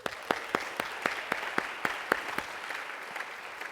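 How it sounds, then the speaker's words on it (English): Scattered clapping from an audience, a handful of sharp claps standing out over a steady patter that gradually thins and fades toward the end. "how about a round of applause for Susanna and the organizers of the Games for Change Festival."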